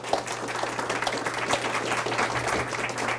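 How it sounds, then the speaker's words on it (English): An audience at a talk about the Baldwin Home for Indigent Gentlewomen gives Bonnie a round of applause, a steady wash of many hands clapping at moderate loudness over a low room hum. "I'd like to give Bonnie a round of applause and Sue an absentia"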